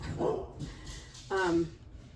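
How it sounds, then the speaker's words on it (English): A dog barks twice, a short yip followed by a longer whining bark, fairly close against a quiet room background. "Sorry about the noise too, if you hear my dog."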